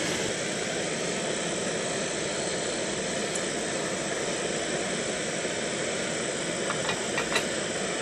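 A camp stove burner hisses steadily beneath a canteen cup while tuna macaroni cooks, a close, constant broadband roar that holds level the whole time, with a few faint clicks near the end.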